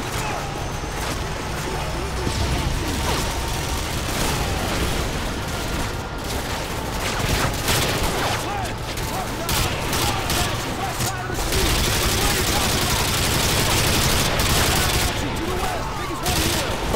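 Sustained gunfire from a Call of Duty: Modern Warfare 2 battle on PC, dense rattling bursts and volleys running throughout with crashes mixed in, while voices talk over the shooting.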